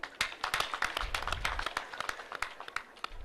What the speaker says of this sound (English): For that, I request we applaud the chairman.